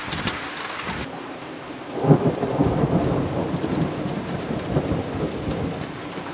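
Thunderstorm with intense hail in Jelgava, Latvia, with hailstones up to about a centimetre: steady heavy pelting on surfaces, with a low rumbling swell of thunder about two seconds in, and no talk.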